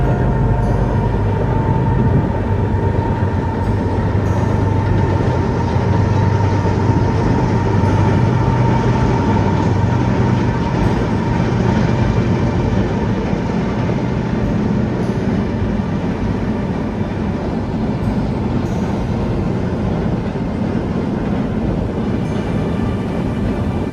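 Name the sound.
Via Rail train passing slowly near trestle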